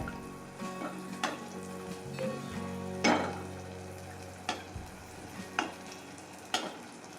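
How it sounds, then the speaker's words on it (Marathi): Jaggery anarsa, a traditional Maharashtrian Diwali sweet, fries in hot ghee over low heat while ghee is splashed over it. A gentle sizzle is punctuated by sharp, irregular utensil clinks and scrapes. "कमी आचेवर आपण आता अनारसा तळून घेऊ."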